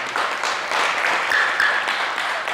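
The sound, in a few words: audience applause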